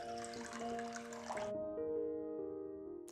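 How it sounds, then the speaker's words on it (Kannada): A cup of water is poured into a pan for Udupi-style pineapple gojju, a close trickling splash that rings with rising tones as the pan fills, then stops. "ಬಾಂಡ್ಲೆಗೆ 1 ಕಪ್ ನೀರು ಹಾಕಿ."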